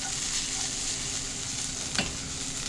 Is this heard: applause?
no